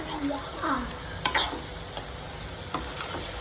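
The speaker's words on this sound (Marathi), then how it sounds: "आता लगेच कोलंबे मी फ्राय करून घेते" Prawns frying in a pan in a home kitchen, a steady sizzle with occasional stirring clinks and scrapes, close and fairly quiet, no talking.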